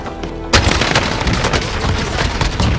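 Dense, continuous gunfire from a Call of Duty Warzone battle royale match on Rebirth Island bursts in after a half-second of quiet, with rapid shots and booming blasts layered loudly throughout.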